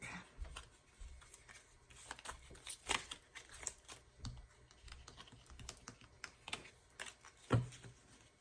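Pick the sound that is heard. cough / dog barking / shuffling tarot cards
shuffling tarot cards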